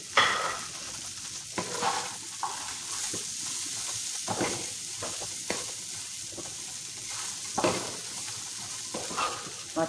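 Shredded cabbage and vegetables are stir-fried with ginger, garlic and crushed chilies for Japanese noodles. A loud, steady sizzle fills the wok, broken by repeated scraping and tossing strokes of a spatula.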